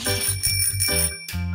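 A cartoon bicycle-style bell rings in a bright, rapid ding-a-ling, loud and close, in repeated quick trills with one brief gap, alone without speech.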